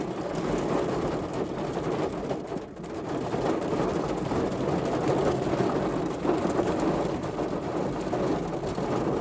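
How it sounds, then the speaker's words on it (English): Heavy rain pours down in a steady, dense roar with no letup, loud and close, with a brief dip partway through. "this rain is coming down"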